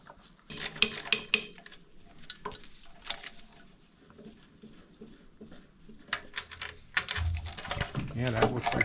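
Wrench working loose a bolt during the teardown of a 1969 Harley-Davidson XLCH motorcycle, heard as close, irregular metallic ratcheting clicks and clanks in bursts, with a quiet stretch in the middle and busier tool handling toward the end.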